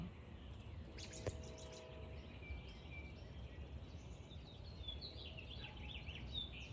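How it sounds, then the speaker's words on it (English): Birds chirping and calling at sunrise on a July morning, faint scattered tweets and trills set against a steady outdoor rumble, heard from some distance. "The birds, of course, are making their presence known."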